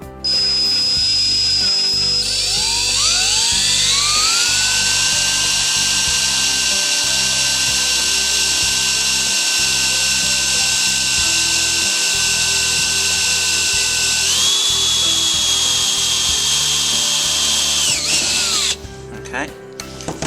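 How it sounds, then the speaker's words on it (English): A power drill spins up to a high steady whine, holds for a long stretch while boring a hole through a Range Rover Evoque body panel through masking tape, shifts pitch, then winds down. "So there we go, that's the hole drilled."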